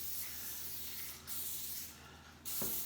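Cooking spray hisses onto bread roll dough in short bursts, a steady close spray with brief pauses between passes, alone without talk.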